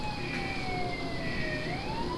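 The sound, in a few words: police siren, sound effect in tabletop role-playing game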